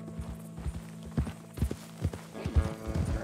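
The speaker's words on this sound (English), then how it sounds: "Come on, horses!" Horse hooves clip-clopping at a walk in Red Dead Redemption 2, uneven low thuds in small clusters that grow busier toward the end, fairly close, with no voices over them.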